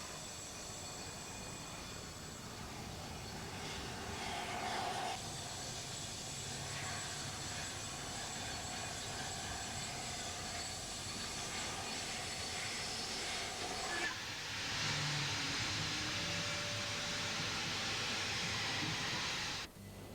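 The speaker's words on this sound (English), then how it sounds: "Slowly, the driver backs the locomotive onto the turntable." A steam locomotive slowly turns on a turntable, giving a continuous faint hiss with low rumbling and metallic squeals, a steadier rush of steam near the end, and no voices.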